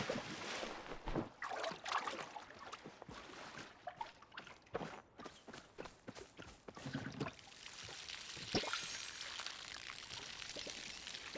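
Crops are being watered in the video game Palia, heard as watery pouring and splashing with scattered splashy taps, fairly faint and steady throughout, with no speech.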